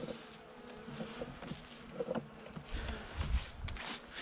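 Honeybees buzz steadily in a dense, close swarm at an open hive during a November winter inspection, a continuous droning hum with small swells and no voices.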